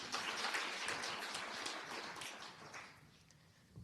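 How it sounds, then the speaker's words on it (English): An audience at the launch of Namibia's revised national policy on disability applauds. Dense, faint clapping comes from a distance and gradually dies away toward the end. "give yourself a round of applause"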